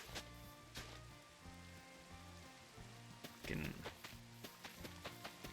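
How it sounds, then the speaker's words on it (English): Steady rain falls in the Minecraft video game, a soft hiss with scattered patters under game music and sounds, swelling briefly midway. "Hey, it's raining."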